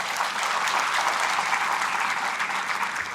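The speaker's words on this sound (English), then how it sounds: "Give me a round of applause once again." Audience at a university graduation ceremony in Sri Lanka giving a round of applause for graduating students, a steady, sustained roar of clapping from a large crowd, even and continuous throughout.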